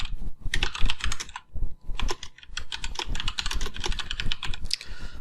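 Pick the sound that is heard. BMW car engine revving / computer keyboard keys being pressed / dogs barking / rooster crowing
computer keyboard keys being pressed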